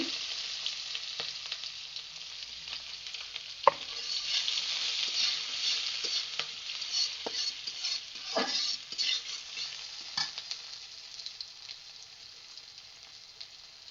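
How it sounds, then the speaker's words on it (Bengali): Chopped onion frying in oil with cumin in a pan for a beef dish, a steady close crackling sizzle with intermittent spatula scrapes and clinks as it is stirred, no talking. "দিয়ে দিচ্ছি পেঁয়াজ কুচি"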